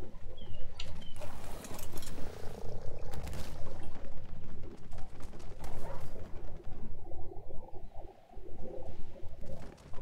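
A toad croaks repeatedly in Ark: Survival Evolved in a dense outdoor ambience of guttural calls and clatter, moderately loud with irregular bursts across the stretch.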